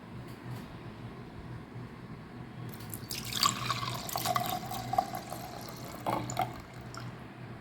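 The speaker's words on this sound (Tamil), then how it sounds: "இது நான் டெய்லி அரை லிட்டர் பால் தாங்க இதில் ஊற்றுவேன்" Milk poured into a clay pot, a wet trickling and splashing that starts partway through and runs for several seconds with small drips, fairly close and alone.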